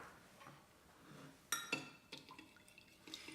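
A spoon clinks and scrapes against a glass while salt and sugar are stirred into warm water for roti dough, a few sharp taps followed by softer swirling clicks, close and fairly quiet.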